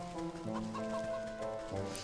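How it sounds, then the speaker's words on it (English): A golden goose in the game Wytchwood clucks and warbles with short tonal bird calls repeating over a soft musical background, with no talking over them. "Oh yeah, the golden goose."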